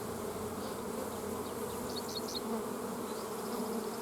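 Honey bees crowding the hive entrance, a steady dense hum of many insects with a few brief higher whines from individual bees flying past, no voices.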